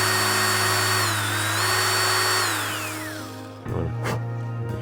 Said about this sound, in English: Now I'm going to very carefully drill.